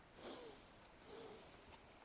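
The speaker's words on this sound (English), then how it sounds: "Breathing in through the nostrils, belly," Breathwork practice with air drawn in through the nostrils, two long airy inhales in succession, close and fairly loud, with no talking.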